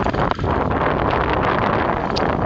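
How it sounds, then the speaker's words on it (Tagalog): Strong wind buffets the microphone in a steady, loud roar with rustling gusts and no voices, outdoors in a rice field. "Sobrang lakas ng hangin mga ka-hybrid."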